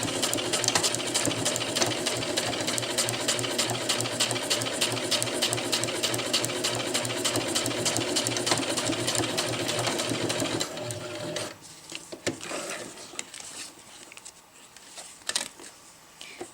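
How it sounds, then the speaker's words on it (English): A sewing machine runs a long straight basting stitch on a round zippered bag with a close, steady, continuous whir for about ten seconds, then stops, leaving scattered handling clicks and rustles. "So just inside the seam allowance again with a straight stitch."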